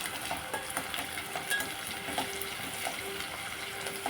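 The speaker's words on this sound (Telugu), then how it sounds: "గోల్డెన్ కలర్ వచ్చేదాకా ఆనియన్స్ వేపుకుందాం అండి" Onions frying in a pan toward golden brown for chicken dum biryani, a steady close sizzle and crackle with occasional scraping stirs, with little else heard.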